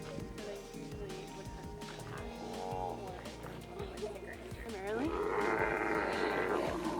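Several sea lions on a meteorological buoy at sea bark and groan loudly in overlapping, raspy calls, close by, with a voice talking under the noise and deep roars swelling near the end.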